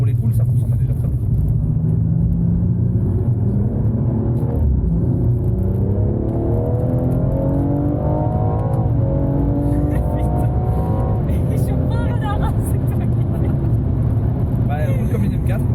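A BMW M240i being set up for drifting accelerates hard, its engine note climbing through the gears in a loud, continuous rising drone heard from inside the car, with someone talking over it.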